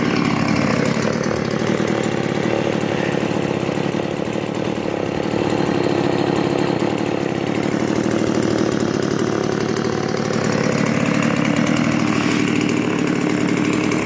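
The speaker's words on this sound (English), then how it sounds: "My dad did a chainsaw. We're burning it in right now." A new chainsaw engine being broken in runs continuously at a steady idle, loud and close, with a slight rise and fall in pitch and no voices.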